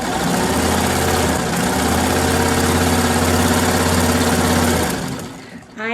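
A sewing machine runs steadily while stitching quilt fabric, a close, continuous mechanical whir and hum lasting several seconds before slowing to a stop.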